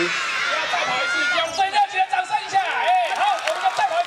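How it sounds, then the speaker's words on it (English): A children's audience at a paper windmill theater performance laughs and cheers, with high excited shouts and overlapping young voices rising in bursts of lively crowd noise. "they laugh and cheer at all the right places"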